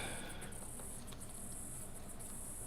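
Cicadas drone outdoors in a steady high-pitched buzz with brief flickering pulses, faint and continuous, with no talking.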